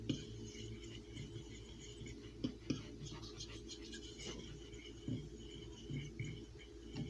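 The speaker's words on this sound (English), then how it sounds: "Just stir it with a fork, mix, kind of blend it together with a fork" A fork stirs gingerbread dry ingredients in a bowl, giving soft, faint scraping and light clinks against the bowl at a steady, quiet level, with no talking.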